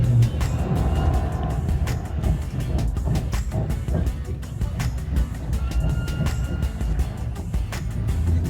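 Passenger train running between Switzerland and Italy, heard as a steady, loud interior rumble with rail clatter and occasional clicks throughout, no talk.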